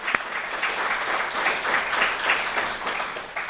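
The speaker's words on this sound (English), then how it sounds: "So much applause to Tim Reed." An audience at a healing-through-the-arts poetry reading applauds steadily, a dense patter of many hands clapping at moderate volume for a few seconds without talk.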